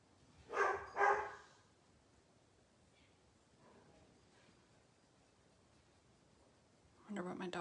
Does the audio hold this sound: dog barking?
yes